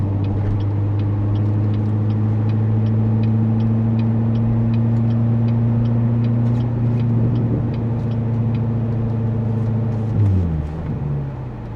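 A C7 Corvette engine hums at a steady low drone while cruising, its pitch holding level, then dropping as it shifts or slows near the end.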